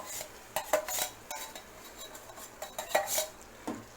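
A spoon stirs mashed eggplant into a pan of cooked masala for eggplant thokku, with scattered metallic scrapes and clinks against the pan, close and fairly sharp, and no talking.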